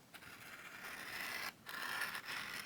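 Leather being cut to height for a pocket-sized traveler's journal, a steady close scraping and rasping cut in two long strokes with a brief gap between them, alone without talk.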